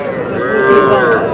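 A young bull calf at a cattle market gives one long, drawn-out moo, loud and close, rising slightly and then fading.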